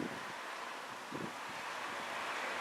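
Wind gusting outdoors at a picnic table on a breezy, overcast fall day, a soft continuous rushing with low buffeting puffs against the microphone, no talk.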